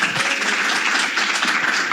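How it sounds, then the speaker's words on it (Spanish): A seated audience at a book presentation on tango percussion gives a dense, steady round of applause for the author, many hands clapping close together with no pause. "Vamos a recibir con un aplauso al autor de este libro que hoy presentamos"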